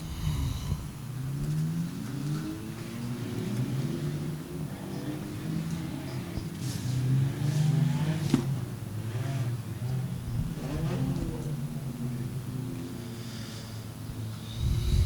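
Junior sedan race cars rolling off at the start of a Western Australia race, a steady rumbling drone of several mid-sized engines with rising and falling revs throughout, continuous and fairly close.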